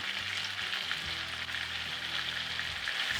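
Ginger, garlic, curry powder, turmeric and bay leaves sizzling in hot oil in a pan for yellow curry chicken drumsticks, a steady close crackling fry with a low hum underneath, no talking.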